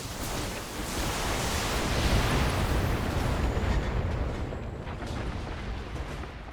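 A heavy rumbling explosion as a vehicle is destroyed in the Battletech video game, a loud broadband roar that swells and slowly fades over several seconds, with no talking.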